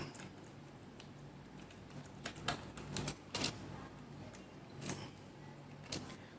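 Keys clack faintly on a computer keyboard as a chapter title is typed into a word-processing document, in a few short irregular bursts over a quiet background.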